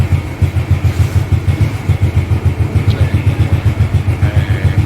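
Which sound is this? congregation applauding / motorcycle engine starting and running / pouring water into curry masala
motorcycle engine starting and running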